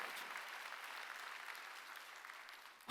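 A church congregation clapping during a Sunday worship service, a steady even wash of applause from many hands, fairly distant and soft, fading slightly toward the end.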